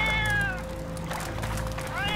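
In the video game Fate, a cat meows twice with rising, drawn-out calls at the start and end, heard over steady game background sound.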